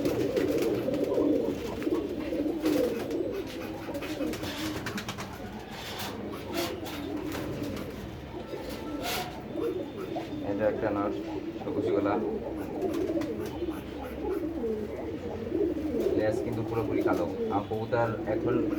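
Pigeons being shown for sale, all in moult, coo in low repeated rumbles under steady nearby talk that runs through the whole stretch.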